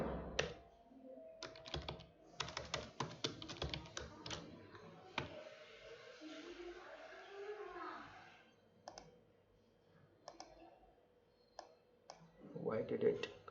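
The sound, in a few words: typing on a computer keyboard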